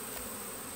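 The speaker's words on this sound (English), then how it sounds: "This buzzing is a little unnerving." Honey bees buzzing at a honey harvest, a loud continuous swarm drone filling the air with no pauses or talk.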